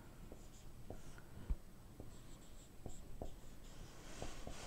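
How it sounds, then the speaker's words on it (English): Pen or pencil writing on paper during a math lesson, faint scratchy strokes and taps at an irregular rhythm, close and quiet with no speech. "I'll write it a little closer."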